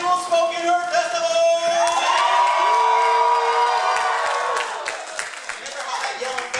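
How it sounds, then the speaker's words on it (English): Festival crowd at a spoken word event cheering, whooping and yelling loudly and continuously, with shouts rising over sustained noise before tapering slightly near the end. "Ladies and gentlemen, make some noise for the 3rd annual Spoken Word Festival!"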